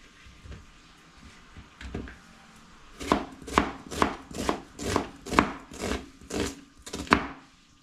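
A knife chops onion on a wooden board in a dorm kitchen. A few light taps come first, then a run of about nine steady, evenly spaced, fairly loud chops.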